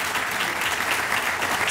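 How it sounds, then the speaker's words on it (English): Audience applause at an outdoor groundbreaking ceremony, a steady wash of many hands clapping without a break. "Let's give them a round of applause."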